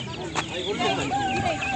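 Fighting-breed roosters, about 2.5 to 3 kilograms, cluck and squawk in quick, overlapping calls at a busy poultry market in Sokuluk, close by over murmuring voices and crowd noise.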